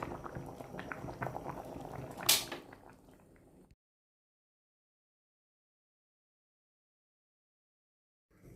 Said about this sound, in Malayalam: ഇങ്ങനെ തിളച്ച് വേവണം